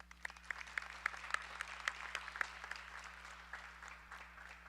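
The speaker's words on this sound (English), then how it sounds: "Let's get a round of applause for that real quick." An audience at a university Charter Day convocation gives a brief round of applause, fairly faint and distant, scattered claps rising and thinning over a steady hum.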